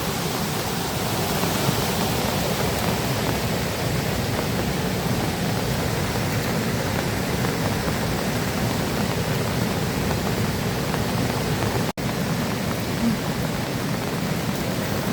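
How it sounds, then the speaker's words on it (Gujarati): The flooded Devka river rushes over a causeway under three to four feet of water, a loud, steady roar of churning water filling the whole scene without pause. "એટલે પૂર જોરદાર આવ્યું."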